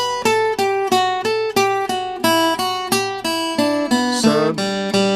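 A lead lick with a Mickey Mouse flavour played on a pitched instrument, a run of evenly spaced plucked or picked notes with bright harmonics, close and clear, ending in a quick bending flourish, no voices.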